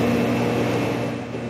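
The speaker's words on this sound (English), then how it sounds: "The fans you're actually hearing there are from the Synology device and my PC." Cooling fans of a Synology NAS and a PC give a steady, close whirring hum with a low tonal drone. The hum stays even and fades slightly toward the end of a short stretch.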